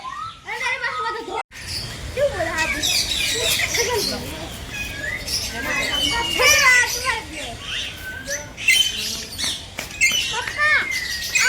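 Parrots squawk and chirp in bursts in a zoo aviary amid a lively crowd, with children's voices and chatter mixing in throughout.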